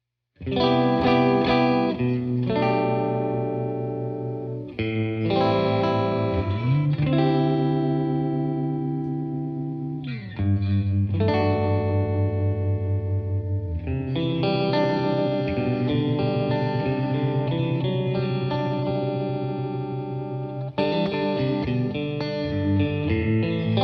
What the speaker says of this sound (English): the Bubbler Chorus features stereo outputs